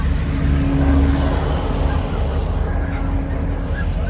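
A large engine idles with a deep, steady rumble, loud and close, running continuously throughout.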